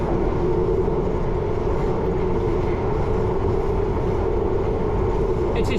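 A London Underground train rolls at 30 miles an hour on the run from Cockfosters, coasting with steady low rumble and wheel-on-rail drone throughout, fairly close and continuous with no pauses.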